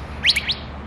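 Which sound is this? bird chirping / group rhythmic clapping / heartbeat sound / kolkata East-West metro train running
bird chirping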